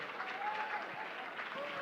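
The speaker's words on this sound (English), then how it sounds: "Can we have a big round of applause for him?" Brief applause from an audience at a children's storytelling session in Chennai, a dense steady patter of clapping with a voice or tone sliding faintly through it.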